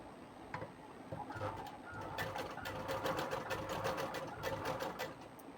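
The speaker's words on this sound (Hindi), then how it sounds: "ऐसे करके अब इसे हम सिलाई लगा लेंगे" A sewing machine stitches a blouse lining in a steady, continuous mechanical whir with rapid needle clatter, close and fairly loud, while a pigeon coos faintly in the background.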